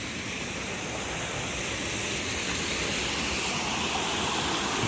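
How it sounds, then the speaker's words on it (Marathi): Gunehr waterfall in Bir rushes in a steady broadband roar of falling water, close and constant without pause, no voices over it. "वॉटरफॉल आहे."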